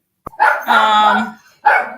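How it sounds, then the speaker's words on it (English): A dog barks loudly and close by, giving a couple of drawn-out, whiny barks followed by another short one, with no talk over them. "Sorry, my dog is just going crazy."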